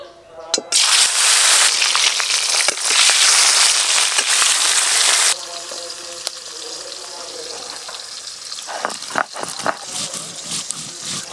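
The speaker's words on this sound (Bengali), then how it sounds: "তেল ভালো করে গরম হয়ে গেছে, মাছগুলো ভেজে নেব" Fish hit hot oil with a loud burst of sizzling that lasts several seconds, then settles into quieter crackling and scattered spattering pops.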